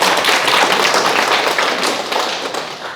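Audience applause at a Korean Sunday lecture, a dense wash of many hands clapping steadily for about three seconds, loud and close, tapering slightly toward the end with no talk over it.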